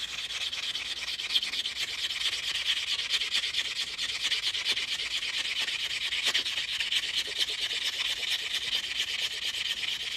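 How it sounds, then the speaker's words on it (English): Hand file rasping steadily against a 1977 proof Eisenhower dollar coin being shaped into a ring, a continuous close scraping with rapid strokes, heard alone without any talking. "Do a little more filing just to be safe."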